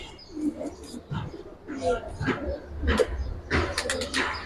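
Giribaz and coloured pigeons coo in soft, low bursts close by, mixed with rustling and handling noise, while a person speaks intermittently over them.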